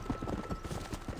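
Horse hooves clip-clop steadily in Red Dead Redemption, a quick even rhythm of hoof strikes, close and moderately loud with no talking.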